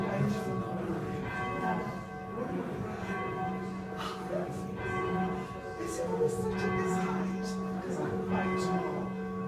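A heavy church bell rings out in a tower during bell ringing, its long humming strikes overlapping and sustaining over several seconds, with people talking quietly beneath the tones.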